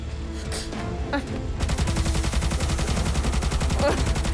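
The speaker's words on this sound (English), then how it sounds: "you aim the ship's ultra cannon at this thing and just let it rip" A ship's ultra cannon opens fire with high-powered ballistics: a few scattered shots, then a relentless rapid stream of heavy rounds, loud and close, running to the end.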